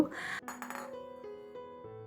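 Dishes clink while cooked curries are poured out, with a few sharp ringing taps of metal or crockery over about two seconds that fade quickly between hits.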